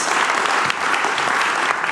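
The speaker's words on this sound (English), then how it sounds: "And please give him a warm, warm, warm applause." An audience at a photography talk event applauds a speaker with dense, steady clapping that fills the room, close and loud, with no pauses for the full stretch.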